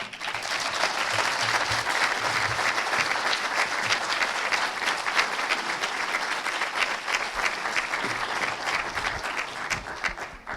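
An event audience gives a round of applause for student speakers, a steady, dense clapping that holds at full strength for about ten seconds with faint voices underneath.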